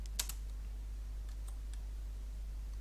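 A few soft keyboard key clicks, including a quick double tap, sound close but faint over a steady low electrical hum while an arrow key moves an object in SketchUp.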